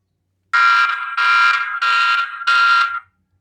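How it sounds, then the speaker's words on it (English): Four loud, piercing alarm blasts from a TP-Link Tapo C310 security camera siren triggered by motion, in a steady on-off pattern, each about half a second with brief gaps, close and with no voices. "so that is basically the alarm or the siren"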